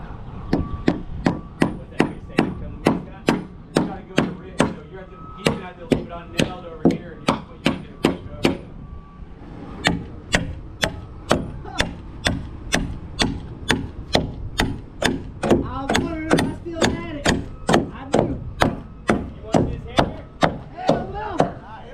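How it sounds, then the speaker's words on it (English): Nails are hammered into wood during hand-built roof framing, a long steady series of sharp, loud whacks in quick rhythm with a brief pause partway through. "I was just gonna nail it off."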